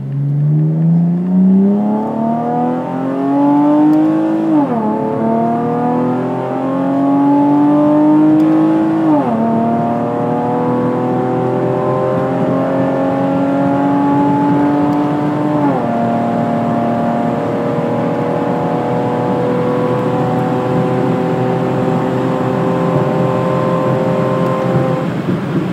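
Chevrolet Camaro RS accelerating hard from inside the car, its engine note climbing steadily through several gears with brief dips at each shift, loud and continuous for the whole stretch.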